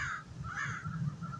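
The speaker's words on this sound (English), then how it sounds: "Crows and ravens." Crows caw outdoors, a few harsh, drawn-out calls following one another, moderately close and clear, with no voices.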